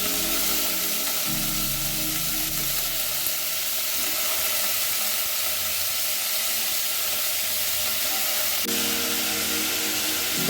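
Vegetables for sambar fry in a pan with a continuous soft hiss and sizzle, steady and close, with faint low hum in the background.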